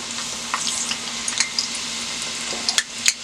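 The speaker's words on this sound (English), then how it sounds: "Put some onion in my oil." Onion drops into hot vegetable oil in a pot, setting off a steady, close sizzle and crackle with sharp spits and pops scattered through it, no voices.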